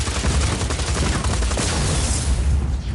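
Gunfire shreds a generator in the video game Just Cause 4, a dense and continuous roar of rapid shots with deep booming rumble underneath, loud throughout.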